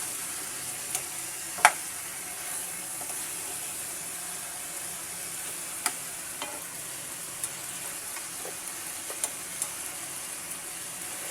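Steady, soft sizzling of potatoes and chicken frying in a pan, with a few sharp pops and crackles scattered throughout.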